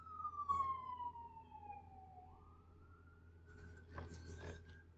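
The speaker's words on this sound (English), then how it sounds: "I'm gonna wait till the siren go past." A passing emergency vehicle's siren wails in a long falling sweep, then holds a steadier tone as it moves off, heard at a distance over low traffic rumble, with a burst of nearby noise toward the end.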